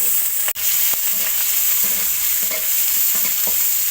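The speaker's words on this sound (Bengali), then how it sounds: "তেলের মধ্যে পেঁয়াজগুলো ভেজে দেবো।" Chopped onions fry steadily in hot oil in a pan while making rui fish kalia, a continuous close sizzle with faint stirring scrapes and one sharp clack near the start.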